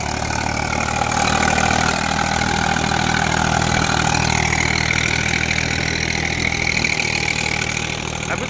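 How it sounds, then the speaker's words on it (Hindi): A tractor engine idles steadily and loudly outdoors near a wheat field at harvest time. The low, even rumble continues unbroken throughout. "ट्रैक्टर"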